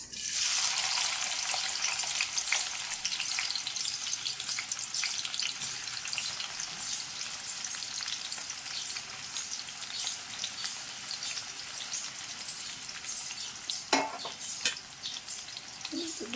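Onions fry with cooked mutton in a pan, a loud, steady sizzle crackling throughout with a couple of sharp spatula scrapes near the end.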